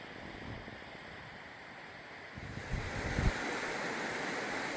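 A river flowing through a mountain valley near Waiau Pass and Caroline Creek, a steady broad rush of water mixed with wind that grows slightly louder midway through.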